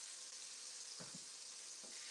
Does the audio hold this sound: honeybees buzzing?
no